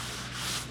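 A hard file sanding block rubs across high-build primer on a car body, one brief close scraping stroke with no talking.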